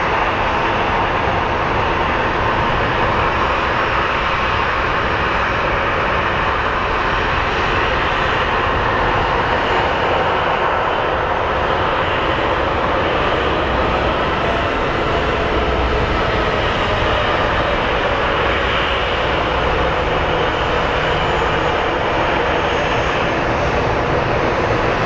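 A Southwest Airlines jet at Phoenix Sky Harbor gives a loud, close, sustained engine roar, a dense unbroken drone that stays strong and level across the entire span.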